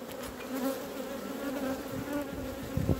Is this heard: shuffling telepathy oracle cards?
no